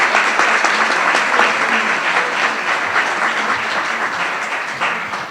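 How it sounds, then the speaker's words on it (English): Steady applause rises from an audience at a judicial investiture ceremony, a dense, even wash of many hands clapping together that carries on throughout and tapers slightly at the close. "Now we can applaud."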